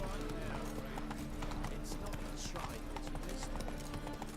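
Hooves of a galloping horse clip-clop rhythmically in Witcher 3, a steady quick patter at moderate level under game ambience and some talking.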